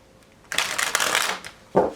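A deck of tarot cards is shuffled in one quick riffling burst lasting about a second, then a short sharp snap as the cards settle.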